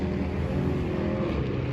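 A modified Nissan Patrol roars at night on a Dubai drag strip, its engine a steady, loud, dense drone that holds without a break and with no voices.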